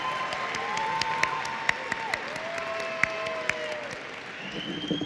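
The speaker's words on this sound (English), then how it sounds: "give them a round of applause to your family and your friends" A graduation commencement audience applauds for families and friends, a steady wash of clapping with occasional sharp claps and whistles over a sustained tonal whistle-like line, fairly close and loud throughout.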